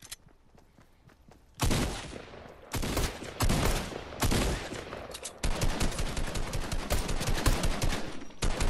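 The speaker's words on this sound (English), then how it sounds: "Who's shooting at you?" Video game gunfire, loud repeated bursts of rapid automatic shots, close and overlapping, with short gaps between volleys and heavier sustained firing toward the end.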